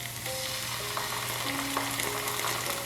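Garlic and sun-dried tomato paste fry in a pan with a soft, steady sizzle throughout, fairly quiet and with no talking over it.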